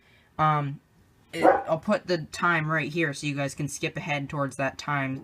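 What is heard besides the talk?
dog barking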